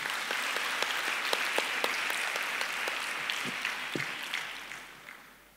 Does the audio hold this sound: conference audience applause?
yes